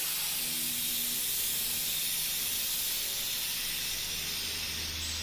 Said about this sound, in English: nice and clean spray pattern on that as well